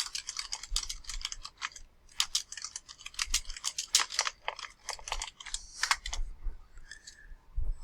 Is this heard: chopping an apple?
no